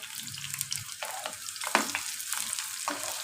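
Chopped onion sautéing in a hot pan, a steady sizzle broken by repeated scraping strokes of a spatula stirring it, close and moderately loud with no voices.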